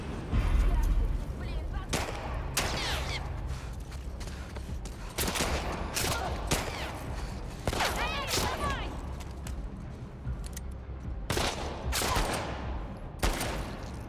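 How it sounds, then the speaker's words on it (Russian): Enemy gunfire in the video game The Last of Us Part 2, with repeated sharp shots and short bursts cracking at irregular intervals over several seconds, loud and close, over a low rumbling background. "По нам стреляют!"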